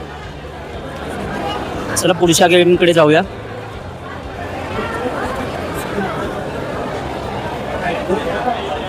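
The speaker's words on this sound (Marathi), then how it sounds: "खूपच गर्दी आहे इथे" Dense crowd chatter fills a packed fair with snack stalls, a steady babble of many voices throughout, broken by a brief burst of louder music or amplified sound early on while a nearby person talks.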